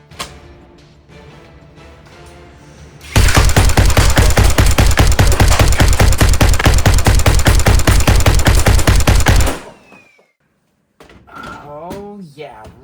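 A Nerf clone blaster dry fires in a fast, loud burst of rapid mechanical clacks lasting about six seconds, preceded by handling clicks and followed by brief speech.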